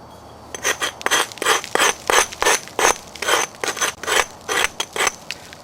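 A large, thick knife blade being ground down, with bursts of harsh scraping in a steady rhythm of roughly a dozen strokes, loud and close, with brief gaps between passes.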